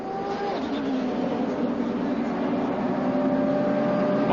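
ChampCar race car crossing the finish line, a steady distant engine roar mixed with crowd and track ambience, fairly faint and continuous, with commentary voices nearby.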